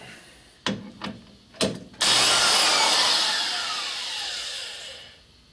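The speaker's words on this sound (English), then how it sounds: "We'll go ahead and give it a little bit of grind right here." A power grinder works on the cylinder head of a 1980 Harley-Davidson Sportster ironhead 74ci stroker, with a few short taps and then a loud, steady high-pitched whine that slowly fades.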